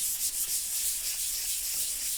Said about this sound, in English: as we sand it, the dust is going to seal the cracks with the glue